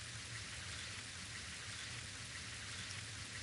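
Steady rain in the Hot Shots Golf video game, a continuous even hiss of falling drops with a low rumbling undertone, unbroken and alone throughout.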